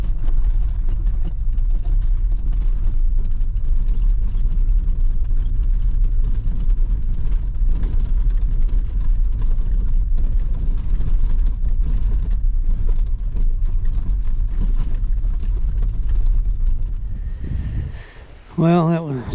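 A vehicle grinds along a very rocky track toward Carcass Rock on the Eyre Peninsula, a loud continuous engine rumble with jolting bumps and rattles, ending with a brief change in the noise.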